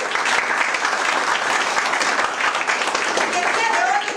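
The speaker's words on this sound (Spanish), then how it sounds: "¡Fuerte las palmas!" Audience applause at a public-management talk, dense steady clapping from a crowd filling the hall, loud and continuous throughout.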